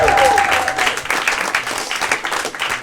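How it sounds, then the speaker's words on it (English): A stand-up comedy audience claps and cheers for a comedian, dense applause that carries steadily throughout, with a voice briefly heard over it at the start. "Thank you guys for clapping for a cripple comedian."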